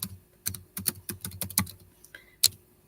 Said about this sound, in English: So I'm just gonna type this.